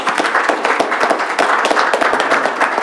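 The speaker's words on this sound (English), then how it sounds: "Let's give ourselves a round of applause." A room of people at a board of education meeting claps together in a brisk, dense burst of applause, loud and close, with no talking.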